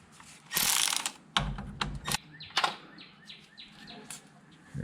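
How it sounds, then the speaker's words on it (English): A ratchet wrench clicks in quick, loud bursts and short pulls during brake and suspension work on a Datsun 521 mini truck, close up with pauses between strokes and some faint background noise. "Ratchet."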